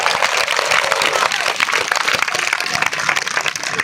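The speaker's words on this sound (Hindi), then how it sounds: "एक बार जोरदार ताली बजा के आप लोग अपना पर स्वागत करें।" A crowd at a political rally on the Catting Memorial ground in Varanasi claps loudly to welcome a speaker, with dense, sustained applause filling the space for several seconds and a murmur of crowd noise underneath.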